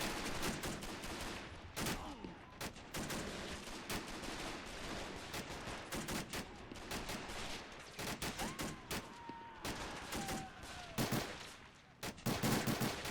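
An MG42 in a WWII battle fires dense, rapid bursts over constant battlefield din, with shots near and far overlapping and occasional whistling projectiles.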